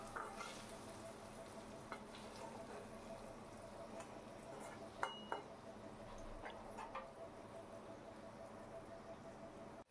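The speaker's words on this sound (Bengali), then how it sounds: "আমি বড়িটা আলাদা করে ভাজিনি" Potato and lentil bori fry together in a pan of oil, giving a steady, dense sizzle with a few faint clinks and stirring scrapes throughout.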